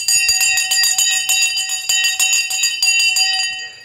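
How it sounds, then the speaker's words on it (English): A bell rings at the stock market open, a fast, loud, insistent run of clanging strokes lasting several seconds before cutting off, with no talk over it. "The bell has now gone."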